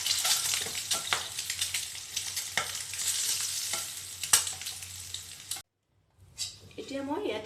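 Potatoes fry in a pan for Assamese egg curry, giving a steady, dense sizzle broken by stirring scrapes and taps. It cuts to silence near the end, then a quieter, different kitchen sound follows.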